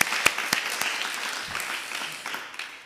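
Municipal council members applaud the election of Laurent Vogler by acclamation at a swearing-in session, a short burst of scattered claps with a few sharp louder strikes, fading over a few seconds.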